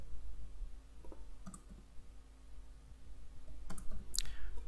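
Mouse clicks from a computer: a few soft, sparse clicks spread over several seconds, close but quiet, against a low steady hum, with no talking.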